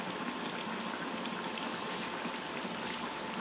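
A whole 1.5 kg chicken cooks in a frying pan on an induction stove, producing a continuous loud, even bubbling sizzle like boiling liquid with no breaks or talking.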